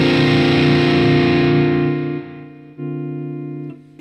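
A Vimana S1 electric guitar played through distortion: a loud, sustained, buzzing chord rings out and slowly decays, followed by a second, fainter distorted chord that fades, with no voices.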